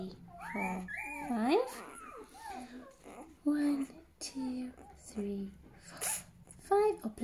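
A tiny sneeze, apparently from a days-old puppy during early neurological stimulation handling, brief and soft among squeaks and whimpers while an adult speaks nearby.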